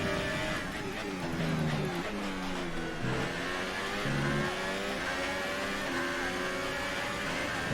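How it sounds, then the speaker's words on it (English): Formula 1 race cars in the F1 2018 video game at the Russian circuit drone from across the track, a steady layered engine whine rising and falling in pitch as several cars accelerate and shift, distant and continuous. "you're hearing the cars on the other side of the track"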